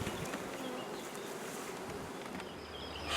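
Bees buzzing steadily beside a strong beehive in an apiary, a continuous insect drone close by with no talk.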